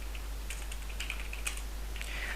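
Keys tapped on a computer keyboard while a PermissionsEx user group command is entered, a quick irregular run of light clicks over steady background hum, with no talking.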